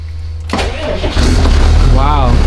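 A police command center truck's engine cranks and catches at once, then settles into a loud, steady rumbling idle, with a voice speaking briefly over it.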